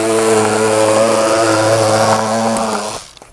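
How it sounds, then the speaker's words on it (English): A power sander grinds steadily and loudly against a shaped metal car body panel, holding a droning hum with a rough edge before it cuts off near the end. "you keep sanding it until it fits perfect"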